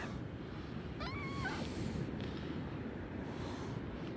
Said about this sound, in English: A very beautiful looking cat.